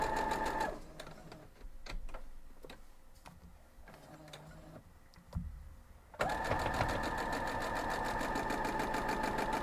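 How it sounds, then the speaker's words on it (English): A sewing machine runs steadily while sewing quilt pieces for a tree of life mystery quilt. It starts with a short burst, gives way to a few seconds of quiet clicks and handling, then resumes with a loud continuous whir to the end. "I'm just going to sew it real quick."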